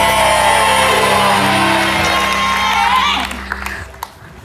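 Studio audience at an Indonesian TV show breaks into loud, sustained applause and cheering over a steady musical tone, holding strong before tapering off over the last second.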